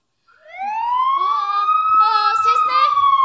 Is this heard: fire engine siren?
yes